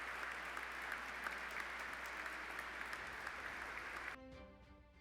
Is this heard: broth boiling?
no